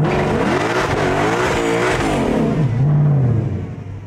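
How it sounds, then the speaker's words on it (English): A 2020 Shelby GT500 with a dual-clutch transmission revs hard as its rear wheels break free in a burnout, a loud, close engine roar rising and wavering with tire squeal over it. "Now if I get on the gas, it'll break the wheels free"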